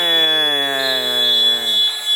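A basketball end-of-game buzzer blares as time expires, one loud, sustained, harmonically rich tone that holds steady for about two seconds and then cuts off.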